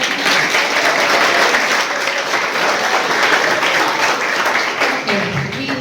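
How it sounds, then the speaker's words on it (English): Audience applause for participants at a school competition, a dense, steady roar of clapping from a large crowd that holds for about six seconds, with faint voices mixed in. "let's give them a huge round of applause for everyone"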